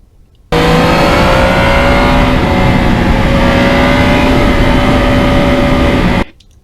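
A 2020 Yamaha MT-09 with its crossplane triple engine pulls hard under acceleration, the quick shifter snapping through gears as the loud, continuous engine note rises steadily, heard from the rider's position, before cutting off abruptly.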